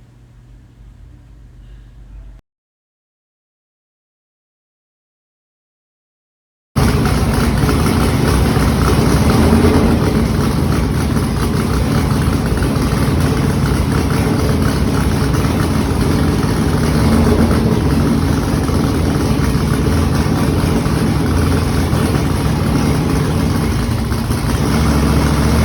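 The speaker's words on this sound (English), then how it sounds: "it was finally ready to make a little hit on the dyno" Modified car engine on a dyno, loud and sustained throughout after a few seconds of silence, steady heavy roar with no talk over it.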